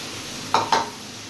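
Potatoes frying in a pan for aloo posto, with a faint steady sizzle under two quick, close scrapes or clinks of a utensil against the pan.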